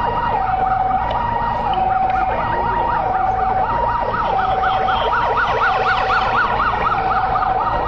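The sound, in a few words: ambulance siren at airport crash drill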